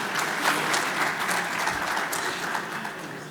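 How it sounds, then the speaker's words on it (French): Sustained applause from a ceremony audience welcoming a speaker to a convention signing at AgroItDays 2023, steady and dense throughout with no pauses. "avec beaucoup d'applaudissements aussi"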